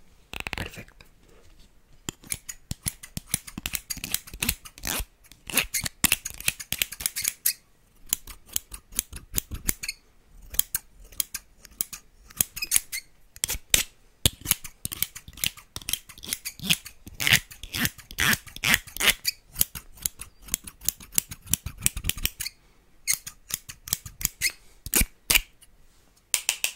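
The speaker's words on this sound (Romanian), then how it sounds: "O să folosim un combo foarfecă și piaptă." Scissors snip through hair during a haircut with a comb, close and crisp, in rapid bursts of clipping that continue for long stretches with short pauses.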